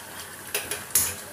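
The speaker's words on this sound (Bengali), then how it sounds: "অল্প একটু গরম জল বসিয়ে দিই।" Hot water splashed into a pan of cooking chicken, giving a few quick bright hissing splashes and a short sizzle over a soft background hiss.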